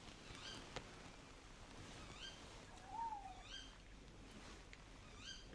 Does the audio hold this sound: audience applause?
no